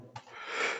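A sudden sharp burst of breathy noise at a tabletop gaming session, a short sneeze-like exhale that swells into a longer hissing rush, close and fairly quiet.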